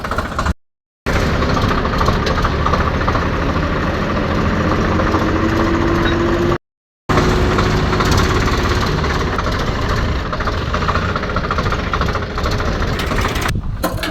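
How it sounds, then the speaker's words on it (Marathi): A Swaraj 855 FE tractor engine runs steadily up close, a loud low rumbling chug with constant vibration, broken by two brief gaps. "ते ट्रॅक्टर तर स्टार्ट झाले"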